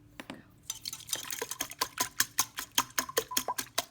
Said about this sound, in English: Give it a quick whisk.